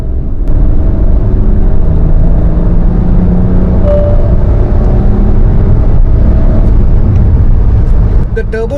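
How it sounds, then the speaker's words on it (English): A 2025 Kia Syros HTX turbo petrol engine pulling hard under full throttle in third gear from about 40, a loud continuous droning rumble with rising tone heard from inside the cabin. "The turbo did spool up."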